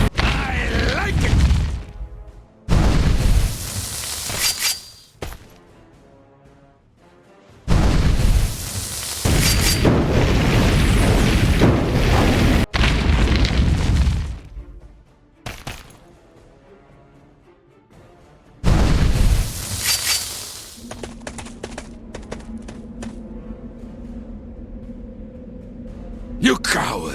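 Fiery blasts from a fire attack burning an enemy in The Cursed Crusade, several loud roaring bursts separated by short pauses, with game voices speaking between them.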